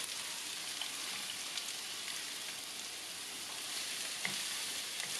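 Chopped onion and bell pepper sizzle in hot oil in a pan as a filling for stuffed eggplant, a steady broadband crackle held throughout with a few brief pops, close and fairly quiet, with no voices.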